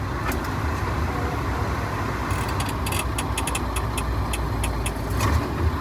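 A truck engine runs at a steady low rumble from inside the cab while held against the parking brake, with faint ticking clicks over the drone.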